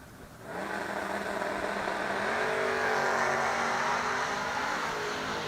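Drag race cars roar down a racetrack side by side at a six-shooter showdown, a loud sustained engine howl with rising pitch as they accelerate, steady and continuous with no voices.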